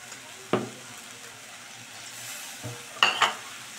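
Cabbage sauce in a pan with a little added water, stirred with a few distinct scrapes and clinks of the utensil over a low simmering hiss, close by and without talk.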